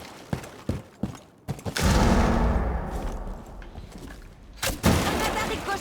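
Gunfire from a character's weapon in Rainbow Six Siege: a few sharp shots up front, then a loud sustained burst with rumbling echo and a second volley, with voices talking over parts of it.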